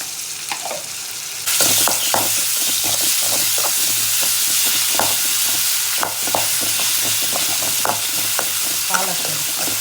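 Ginger garlic paste sizzles loudly in a hot pan of oil with onions and cashews while a spoon scrapes and stirs it in steady, repeated strokes, the frying hiss close and continuous after a quieter opening.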